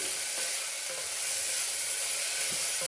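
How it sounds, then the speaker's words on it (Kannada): Chopped onion sizzles steadily in hot oil in a pan, a close, continuous crackling hiss with no voices, cutting off abruptly at the end. "ಇದನ್ನ ಚೂರು ಫ್ರೈ ಮಾಡ್ಕೊಳ್ಳೋಣ."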